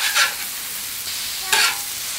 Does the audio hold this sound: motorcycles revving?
no